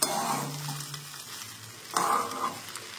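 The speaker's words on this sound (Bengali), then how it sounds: "তো এই যে ভাত ভাজা সব সবজি দিয়ে" Rice fried with mixed vegetables in a pan, soft sizzling with two short bursts of scraping and stirring, close but fairly quiet, no voices.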